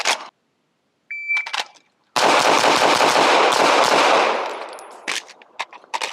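A stock, stippled Glock 17 pistol at a shooting range, with shot-timer beeps and a quick string of loud, close shots whose echoes blur together, then scattered single reports.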